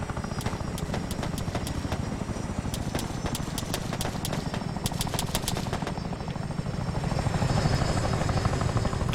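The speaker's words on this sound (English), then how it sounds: "It's trying to fly away with one rotor." Damaged helicopter in the video game ARMA 3, flying with one rotor, its fast, rhythmic blade thumping and engine whine held loud and steady throughout, with no talk over it.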